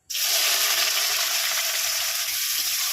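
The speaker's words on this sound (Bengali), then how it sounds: "পেঁয়াজটা ভাজা হোক, ততক্ষণে আমি মিক্সিতে মশলাটা করে নিই।" Onions hitting hot oil in a pan, a sudden loud burst of frying that settles into a steady, dense sizzle held for the rest of the stretch with no speech.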